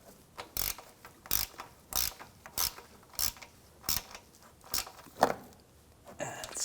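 A hand ratchet tightens the lower bolts of a radiator fan on a 2010-2014 Volkswagen GTI 2.0L, giving about ten sharp, evenly spaced clicking bursts at close range with quiet gaps between.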